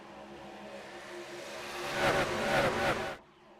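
Racing truck engines in the iRacing video game at Auto Club Speedway in Fontana, a steady engine drone building to a louder, rising pass with whining harmonics before cutting off abruptly near the end.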